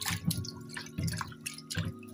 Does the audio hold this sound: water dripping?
yes